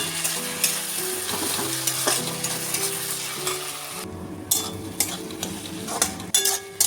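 Chopped tomato frying with already browned onions in a pan, a continuous close sizzle with stirring and occasional utensil clinks against the pan, no voices.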